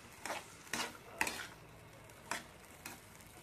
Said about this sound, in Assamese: মই আলুখিনি এনেকৈ দি ল'লোঁ তাৰপিছত মই এতিয়া এনেকৈ লৰাই দিম